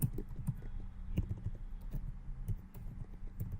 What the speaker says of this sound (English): let's go here and type missing manual